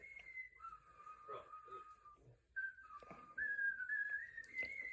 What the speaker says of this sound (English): They just whistle.